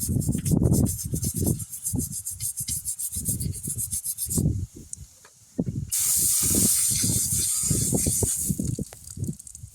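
Brisk scrubbing of a druzy quartz crystal after spraying it with cleaner, repeated rasping strokes close by, broken by a steady hiss of spray.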